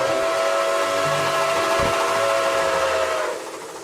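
The steam whistle of Nickel Plate Road 765 sounds in the RO Scale Sandbox video game, a loud sustained chord with a single dull thump midway. It holds for over three seconds, then drops away to a softer hiss.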